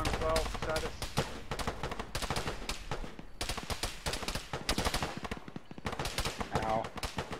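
Dense gunfire from a combat firefight in Arma with ShackTac, many rapid shots overlapping in bursts across the whole stretch, with brief gaps and some speech mixed in.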